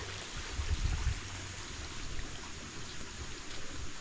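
Strong river water rushing down from upstream past a riverside vegetable camp, a steady broad wash of flowing water with no voices.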